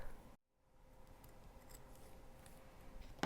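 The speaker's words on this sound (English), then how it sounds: "we're going to go in and tidy up these cuts" Scissors trim close around the cut edges of a hand-stitched patch, one short sharp snip near the end after a quiet stretch of soft room noise, close and clear with no talking.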